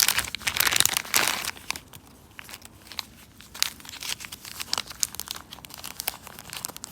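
A plastic bag holding opal rough is opened up close, giving loud, irregular crinkling and crackling rustles that are strongest at the start and then continue in sharper scattered bursts.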